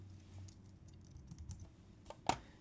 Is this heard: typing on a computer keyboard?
yes